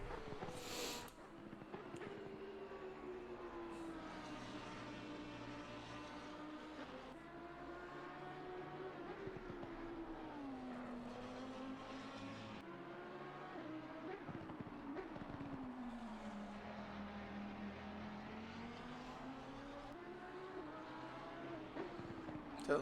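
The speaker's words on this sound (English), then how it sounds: "Sounds like a little bit of a drift from the cars." Race cars circling Zandvoort in Assetto Corsa Competizione, engines rising and falling in a continuous steady drone with shifting pitch as they slide and drift through corners, loud and sustained without speech.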